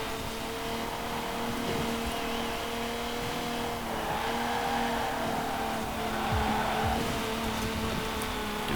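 An Austin Healey racing in a video game, its engine droning steadily with sustained tonal revs and a slight swell midway, amid a constant hiss of track noise, with no talking.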